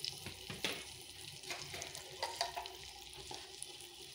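Potato fry sautés in a pan with turmeric and chili powder, giving a steady soft sizzle under scraping and stirring strokes. The cooking sound is close but fairly quiet, and no voices are heard.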